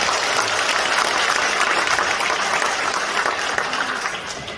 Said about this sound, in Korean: 그럼 서로 박수 한번 부탁드려요